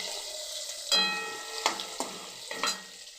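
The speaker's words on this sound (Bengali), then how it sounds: "এই মাছগুলো খুব একটা বেশি ভাজবো না, হালকা করে" Pieces of fish fry lightly in oil in a pan, giving a soft, steady sizzle with a few brief scrapes and clinks as they are turned, heard close and quiet with no talking.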